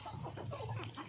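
Free-range hens cluck softly while let out in the sun, a few short faint clucks close by with no talking.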